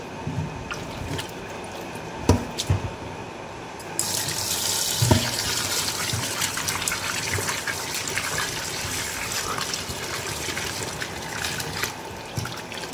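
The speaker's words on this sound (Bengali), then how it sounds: "তো এটা আমি ভালো করে ধুয়ে নেব।" A kitchen tap gushes steadily while pieces of fish are rinsed underneath, a close continuous splash that grows fuller partway through with a few clunks, and no one speaks.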